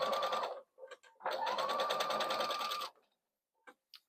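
Sewing machine top-stitching a crossbody bag about 3/8 inch from the top edge, running in a short burst, pausing with a few small clicks, then a steady close whirring run of about a second and a half before stopping.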